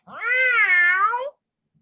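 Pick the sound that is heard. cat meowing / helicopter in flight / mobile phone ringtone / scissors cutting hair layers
cat meowing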